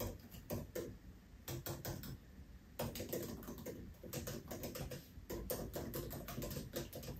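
A computer keyboard being typed on in quick bursts of close, crisp key clicks separated by brief pauses, with no voice heard.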